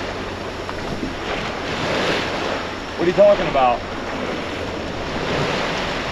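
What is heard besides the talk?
ocean waves on a beach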